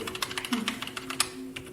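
Someone types on an old mechanical computer keyboard in an abandoned school, producing a quick, uneven run of faint, close clicks with no voices.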